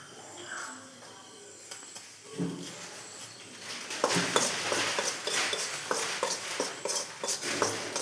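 Ground spices, including pepper powder and cumin, are stirred and roasted in a pan for tamarind candy, with scraping and light sizzling that grow busier and louder toward the end.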